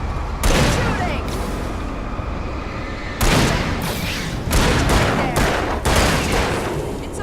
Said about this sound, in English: Shooting! Shooting!